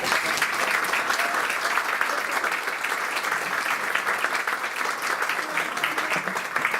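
An audience applauds at a formal ceremony of a history academy, with steady, sustained clapping at moderate level throughout and no break or pause.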